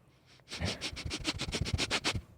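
A person sniffs near the microphone in a quick run of about a dozen short, rhythmic sniffs, quiet and evenly spaced.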